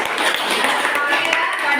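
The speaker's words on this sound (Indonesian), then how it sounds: "Ya, kita kasih tepuk tangan." A classroom of students claps together during an Islamic education lesson, a dense, even burst of applause lasting under two seconds.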